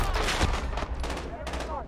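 Bursts of video game gunfire crackle in rapid, overlapping volleys from a shooter match, loud and close, with players talking over the shots.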